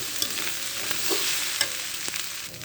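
Fish roe with bitter gourd frying in oil in a pan, a bright steady sizzle with a few scraping stirs and light clicks of a utensil, close and unaccompanied by speech.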